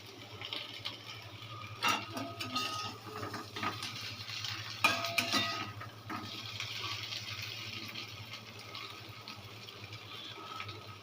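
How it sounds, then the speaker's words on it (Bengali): Boiled potato pieces fry in a pan for alu bhaja, a faint steady sizzle with occasional scraping stirs and soft clattering bursts, no voices. "এটা সেদ্ধ করে ফ্রাই করছি।"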